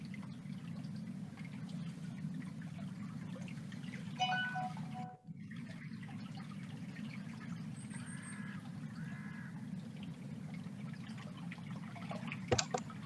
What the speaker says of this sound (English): Hopefully you guys can hear that nice, peaceful flowing water.